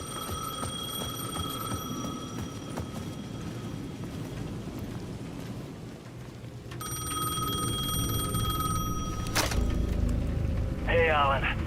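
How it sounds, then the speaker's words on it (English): Payphone in Alan Wake 2 ringing with steady electronic bell tones over a low, murky game ambience, louder in the second half and ending with a short warbling trill. "The payphone at the edge of the plaza was ringing again."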